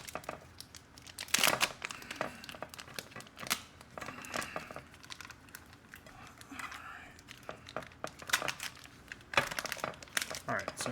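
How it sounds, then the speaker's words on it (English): Food package being opened with a small knife for a ground pork stir fry, with repeated crinkling and tearing of plastic packaging in bursts, close and fairly loud, under occasional speech. "All right, so I've opened the package here"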